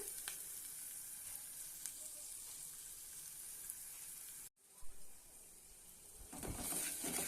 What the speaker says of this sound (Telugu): చూడండి తాలింపు బాగా వేగింది కదా క్రంచీగా